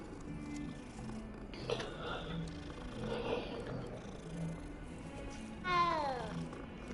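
A cat in the Hogwarts Legacy video game meows several times over a low game backdrop, with a sharper, drawn-out meow near the end, while a person talks quietly at points.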